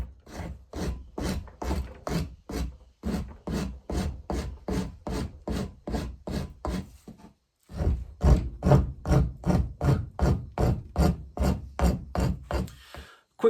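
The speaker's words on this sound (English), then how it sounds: "for the majority of this rasp work, I'm working away from the horn and toward the base plug" A rasp files a hand-carved wooden horn base plug in steady, rhythmic back-and-forth strokes, each a loud, close, raspy scrape, with one short pause midway and no talking.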